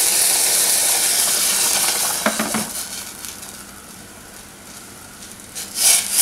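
Boiling water, about 2.5 cups, is poured over dal in a pot and gives a loud, steady hissing rush for about two seconds. It then falls to a faint simmering sizzle, with a brief swell at the end.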